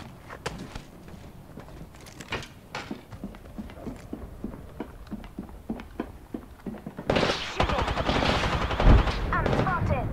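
Gunfire in the Apex Legends video game comes as a string of quick, moderately loud shots with short pauses between them. A heavier, sustained burst of fire and louder in-game noise swells near the end.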